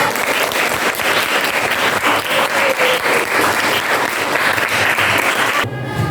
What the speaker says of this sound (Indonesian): Silakan berikan tepuk tangan untuk Atik.